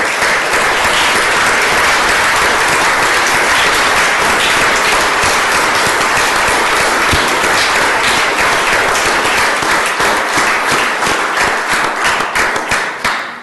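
An audience in the Utah Senate chamber breaks into sustained applause for a departing chief of staff and his family, a dense, steady roar of many hands clapping for over thirteen seconds.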